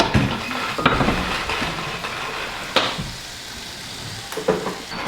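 Sausage sizzles in a hot pan with a steady crackling hiss, broken by a few sharp clinks and scrapes of utensils against the pan, close and fairly loud.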